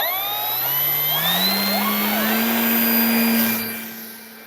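An Avios Kobuz 2.2 m RC plane's electric motor whines up under throttle on takeoff, a steady high-pitched tone rising in pitch with strong overtones, loud and continuous before easing off at the end.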